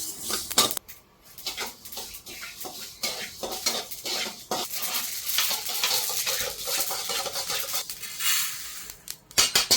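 Ingredients being dry-roasted in a pan for a Sankranti festival dish in a village kitchen, with continuous close scraping and rattling of a spatula against metal and a light sizzle, alone without talk.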